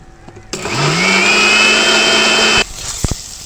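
An electric blender grinds soaked ingredients into a paste, starting abruptly, rising in pitch and whirring loudly and steadily for about two seconds before cutting off, followed by a few light clicks.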